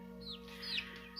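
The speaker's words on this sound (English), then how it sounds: "these are just two other hens that hatched" Backyard hens clucking in short, close murmurs over a steady low hum, with no voices.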